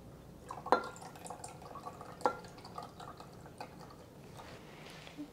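Regular soy sauce is poured into a pot of braising meat, giving quiet liquid trickles and a few sharp drip-like splashes and clinks over a soft background.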